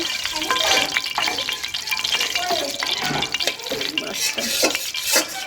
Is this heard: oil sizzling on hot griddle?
yes